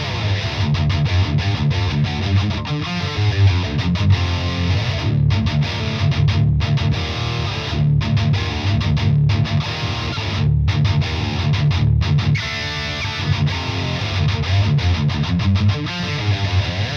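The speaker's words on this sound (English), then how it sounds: "This is the sound of the Air 1 microphone." A distorted electric guitar amp captured through an Air 1 microphone impulse response, playing a continuous chugging riff with rhythmic palm-muted gaps, loud and dense for about seventeen seconds.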